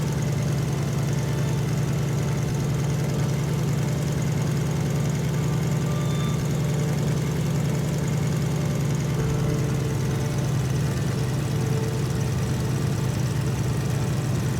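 A light aircraft engine runs steadily at about 1500 RPM, a constant loud low drone with a throbbing hum that holds level throughout, with no speech.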